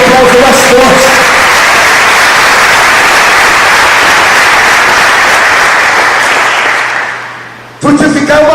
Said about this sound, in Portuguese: Você pode dar um aplauso mais forte